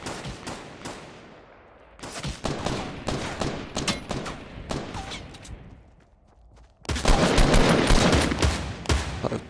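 Shotgun fire in Fortnite Battle Royale rings out as a run of sharp, loud reports with short gaps, then a brief lull before a dense, sustained burst of close gunfire.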